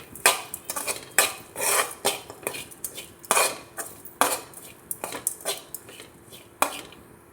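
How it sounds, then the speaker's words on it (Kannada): Grated coconut dry-roasting in a pan, stirred with repeated scraping and clattering strokes of a utensil against the metal in an uneven rhythm, close up and with no talking. "ಹಾಗಾಗಿ ನಾನು ತೆಂಗಿನಕಾಯಿ ತುರಿ ಕೂಡ ಬಾಡಿಸ್ಕೊಳ್ತಾ ಇದ್ದೀನಿ ಬಾಣಲೆಯಲ್ಲಿ"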